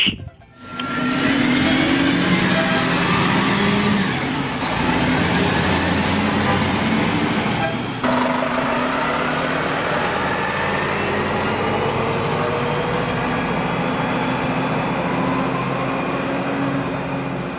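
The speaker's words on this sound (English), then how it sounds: "many of these RTSs are starting to sound rough" A Novabus RTS city transit bus engine from 1997-98 rumbles steadily and roughly under loud road noise, continuous throughout with a slight shift partway through.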